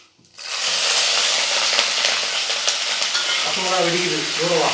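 Three small-cut green chillies and curry leaves hit hot oil with dal, giving a sudden loud burst of sizzling that stays steady and crackling, with stirring and a few faint tonal sounds near the end.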